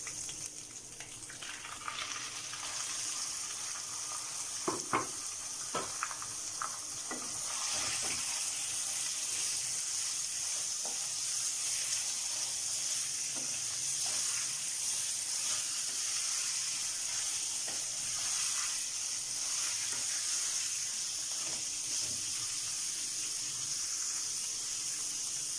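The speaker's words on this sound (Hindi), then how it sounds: "चिकन को मैंने 2 मिनट तक अच्छी तरह फ्राई किया है।" Chicken fries in hot oil with ginger garlic paste, a continuous sizzle with scattered clinks of a spoon against the pan and no talk.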